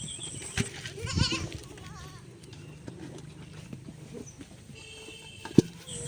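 Goats bleating on a farm, with a few short wavering bleats near the start and a sharp knock near the end, over a quiet outdoor background with faint distant sounds.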